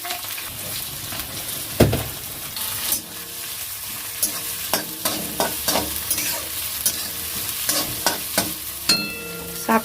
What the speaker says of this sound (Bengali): তেলটা গরম হয়ে গেছে, রসুন কুচি দিলাম, এবার দেবো লঙ্কা, পেঁয়াজগুলো দিয়ে দেবো